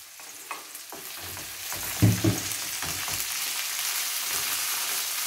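Artichokes and other vegetables fry in a pan with a steady, close sizzle, broken by a few clattering stirs and knocks of a utensil near the start, then settling into even crackling.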